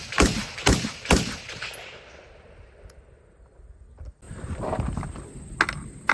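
Suppressed Sandman rifle fired in rapid succession at a 100-yard range: three quick, loud cracks up front, then a fading tail, and more shots bursting in near the end.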